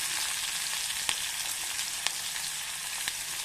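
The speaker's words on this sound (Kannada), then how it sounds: "ಈಗ ಸ್ವಲ್ಪ ಫ್ರೈ ಮಾಡಬೇಕು, ಚೆನ್ನಾಗಿ ಬಾಡಬೇಕು ಅದು." Onions and curry leaves fry in a pan for idli upma, giving a steady, dense sizzle with a few sharp crackles and pops throughout.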